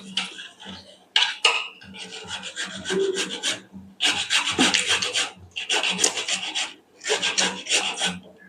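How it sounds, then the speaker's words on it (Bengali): Fresh ginger being grated for a Bengali katla fish kalia gives close, harsh rasping bursts in irregular runs of strokes separated by short pauses. "আদাটা আমি ঘষে দেব"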